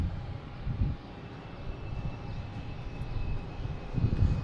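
A JetBlue Airbus A220 arriving from Nashville gives a low, moderate engine rumble that rises slightly toward the end, with no one talking over it.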